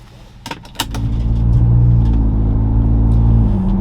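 A new Ford Bronco fitted with an AWE off-road exhaust cruises at about 30 mph through a neighborhood, its deep, steady exhaust drone building after a few sharp clicks and holding loud and close to the end.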